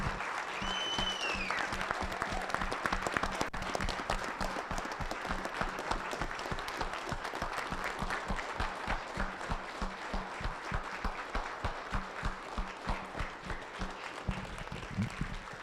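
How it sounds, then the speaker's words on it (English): An audience at a police department vest presentation in Cortez gives officers a sustained round of applause: dense, loud clapping from many hands that holds steady and then thins toward the end. "Let's give your officers a big round of applause for what they do."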